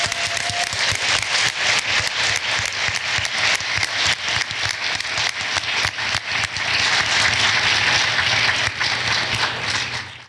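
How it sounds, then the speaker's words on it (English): An audience applauds a panel after a student documentary discussion, a loud, dense round of clapping that swells slightly toward the end before cutting off. "Please give our panel a round of applause."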